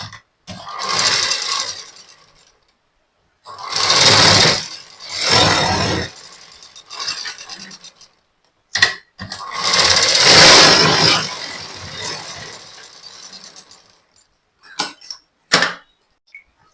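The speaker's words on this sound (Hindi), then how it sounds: "अब हम यहाँ से बड़ी सिलाई लेंगे और यहाँ से हम मशीन घुमा देंगे" A sewing machine stitches a blouse in short runs: several bursts of fast, steady mechanical whirring lasting a second or two each, separated by silent pauses and a few brief clicks.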